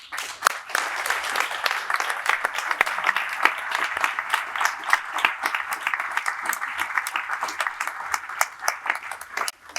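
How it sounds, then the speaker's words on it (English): An audience at the closing of a conference breaks into sustained applause, a dense, continuous patter of many hands clapping at full strength for about ten seconds. "Go in the middle and get the clap,"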